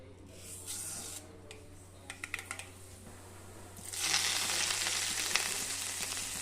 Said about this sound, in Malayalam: എണ്ണ ചൂടാകുമ്പോൾ നമുക്ക് കടുകിട്ട് കൊടുക്കാം